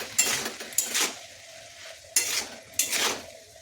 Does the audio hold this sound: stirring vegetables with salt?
yes